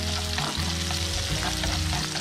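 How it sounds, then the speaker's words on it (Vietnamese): Steady, continuous sizzling of shallots frying in a hot pan, close and constant, with no voices. "Bây giờ mình phi hành."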